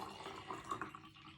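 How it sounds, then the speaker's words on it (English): A Singapore Sling cocktail is poured into a glass, a soft continuous liquid trickle and splash heard fairly faintly and evenly throughout, with no talking. "So I'm just going to pour it into here."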